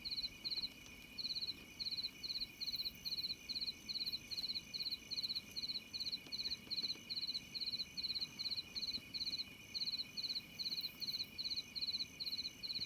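Steady, rhythmic cricket chirping repeats in short regular pulses throughout, over a faint low background hum, with no other sounds, at night in a field hut.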